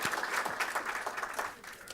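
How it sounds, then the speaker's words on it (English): An audience at a talk gives sustained applause, a dense wash of many hands clapping at moderate distance that fades slightly toward the end. "Another round of applause."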